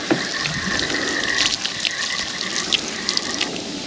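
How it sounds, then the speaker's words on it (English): Water poured over a 1967 Chevy in a junkyard restoration setting, a continuous near splashing gush with a few brief spatters and no talking. "Put a little water on it with it."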